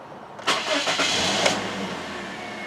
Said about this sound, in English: engine start right up.